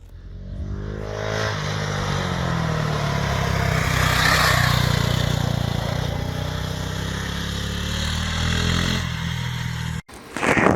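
A GasGas SM 700 supermoto motorcycle rides a circuit, its engine note swelling into a loud, sustained roar as it passes close by, then fading before a brief cut.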